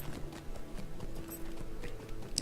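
Goat mount hooves trotting in Lord of the Rings Online, a quick, quiet run of clip-clop steps close by, with faint game ambience underneath.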